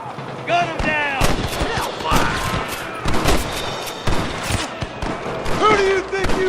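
Gunfire crackles in Red Dead Redemption, a fierce Western shootout with repeated loud, sharp shots in quick bursts, some echoing, close and dense, with voices shouting between the shots.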